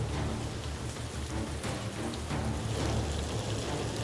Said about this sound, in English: I remembered that it had rained heavily.